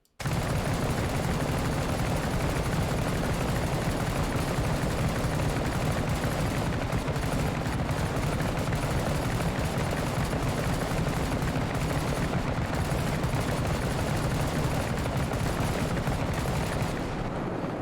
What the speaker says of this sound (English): Now, this is hip fire with a light machine gun.